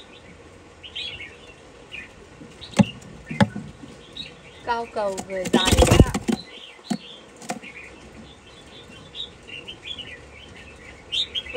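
A caged Chinese hwamei songbird sings in bursts of bright whistled phrases and chirps, loud and close, with a short rapid warbling run in the middle and someone speaking briefly over it.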